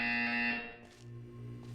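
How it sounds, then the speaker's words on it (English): A steady electronic buzzer drones loudly in the video game Portal 2, holding a flat tone before shifting pitch partway through, with no talking. "When you hear the buzzer, look down at the floor."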